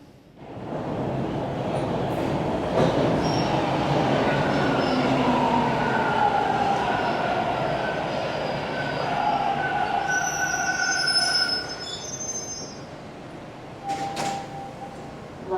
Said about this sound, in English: Just walked out of the subway station here in Islington.